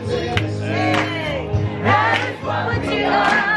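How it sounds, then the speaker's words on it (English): A wedding crowd shouts greetings together, a loud, close burst of overlapping voices that swells and dips across several seconds. "Make the crowd say hi."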